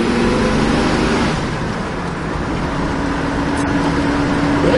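A 1965 Ford Mustang rolls down a road with a steady engine drone and road noise heard from inside the car, loud and even throughout.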